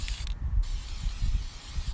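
A spray paint can hisses in one short burst of under half a second, set against a low rumbling room background, used while painting sais.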